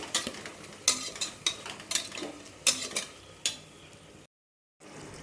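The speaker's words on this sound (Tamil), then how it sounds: "இப்போது மட்டனையும் இதில் கொட்டியாச்சு. நல்லா கிண்டி விட்டுக்கலாம்." Mutton is stirred in a pot for biryani, a spoon knocking and scraping in a steady series of sharp clinks over a faint sizzle, close and moderately loud, with no talk, ending after a brief silence.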